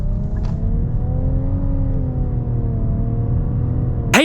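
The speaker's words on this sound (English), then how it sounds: "get our hardcore acceleration here with this new turbocharged engine." A 2022 Nissan Rogue SV with a turbocharged engine accelerates hard, giving a steady, loud engine drone whose pitch rises and dips slightly throughout, with no voices.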